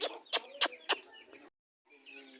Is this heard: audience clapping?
no